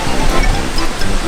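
Waterfall in Morocco pouring with a steady, dense broadband rush, close and loud throughout, with no voices over it.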